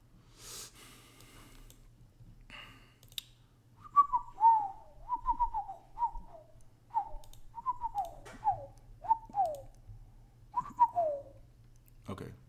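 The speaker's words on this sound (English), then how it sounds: "Sorry, I'm whistling in your ear." A person whistles a short, wavering tune close to the microphone, in a series of rising and falling phrases over a low steady hum.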